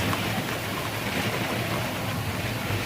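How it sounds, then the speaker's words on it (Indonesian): Heavy rain falling with strong gusting wind in Banyuwangi, a dense and loud continuous roar of downpour and wind with no break and no voices. "hujan masih berlangsung sangat lebat sekali, disertai dengan tiupan angin yang cukup kencang"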